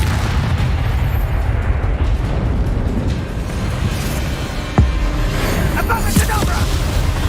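Spell explosions from the Confringo curse in Hogwarts Legacy, a dense roar of magical combat with a sharp blast near the middle and a few smaller bursts after, all loud and continuous.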